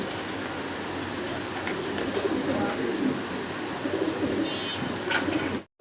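Fancy pigeons kept for sale coo steadily in a loft, a dense, moderately loud bed of overlapping calls running throughout with faint background noise and no speech.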